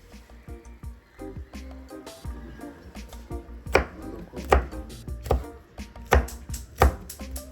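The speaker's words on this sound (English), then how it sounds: "Just chopping up some peppers, everybody." Knife chopping peppers on a board for Jamaican saltfish, yam and dumplings, a run of sharp close thuds that grow louder and more regular toward the end, with soft kitchen noise between.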